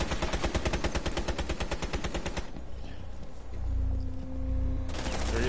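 Rapid automatic gunfire in a video game, a dense burst of evenly spaced shots for over two seconds, then a lull with a low hum before a short crackle of firing returns near the end.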